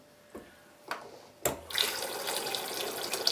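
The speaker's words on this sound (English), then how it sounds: "open the tap to drain your system quickly" Tap opened to drain a household water system after a burst pipe, with a steady rush of running water that starts after a few faint knocks and keeps on alone.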